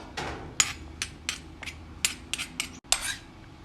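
Chilies are pounded in a mortar in a Thai kitchen, sharp rhythmic thuds landing roughly every half second, close and clear with no talk.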